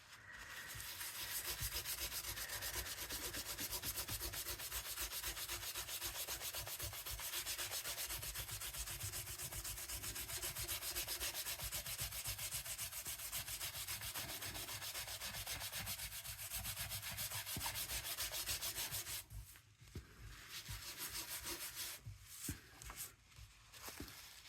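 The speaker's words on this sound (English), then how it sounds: "now I'm just gonna rub it all off" Oil pastel being rubbed and smeared by hand on paper, a continuous close scratchy friction lasting about twenty seconds before breaking into a few shorter rubs.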